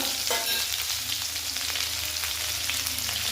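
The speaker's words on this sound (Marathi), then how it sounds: "तर हे वाटण व्यवस्थित परतून घ्यायचं" Ground spice paste (vatan) for maswadi sautéing in hot oil in a pan, a steady dense sizzle with soft stirring scrapes running throughout, close and fairly loud.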